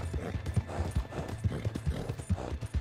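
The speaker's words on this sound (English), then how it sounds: "You never know what you're gonna run into while you're riding your horse in Red Dead Redemption 2" Horse hooves clip-clop at a steady riding pace in Red Dead Redemption 2, rhythmic thuds moving along under light ambient sound.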